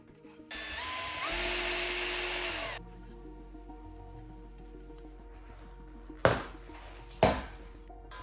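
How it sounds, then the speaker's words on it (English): A power drill whines steadily for about two seconds as it bores a hole in an electrical box for a cable gland. It is followed by a quiet hum and then two sharp, brief knocks. "We'll drill 3 holes to install cable glands."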